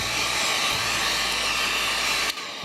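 A dryer blowing air over the metal movement of an 8-day Black Forest Regula 03 cuckoo clock, a loud steady close whoosh that cuts off abruptly near the end.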